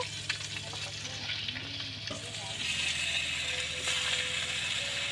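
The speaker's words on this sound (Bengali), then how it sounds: "তো এখন মাছগুলো ভেজে নেব" Fish pieces fry in a pan with a continuous close sizzle and crackle, and faint stirring clicks and clatter run underneath.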